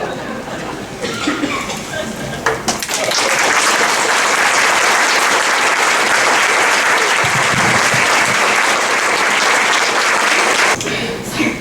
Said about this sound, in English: Yes, applaud for that